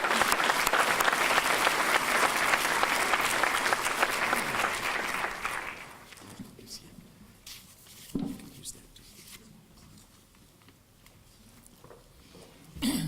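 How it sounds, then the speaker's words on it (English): A conference audience applauds to welcome a speaker to the stage, loud dense clapping for about six seconds that fades out into a quiet hall with scattered small sounds and a brief noise near the end. "please join me in an applause to welcome Dr. Bronicki"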